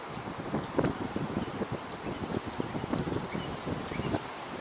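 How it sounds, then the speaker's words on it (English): Steady wind blows outdoors in a historical cemetery, a continuous rushing noise with gusty rustling that swells and eases, and faint bird chirps sound in the background. "the wind just keeps going up and down, picking up and going back down"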